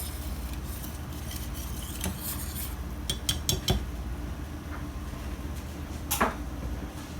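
A whisk works a thickening Alfredo sauce in a pan. Soft metallic taps and scrapes come close by over a steady low background, with a few sharper clinks.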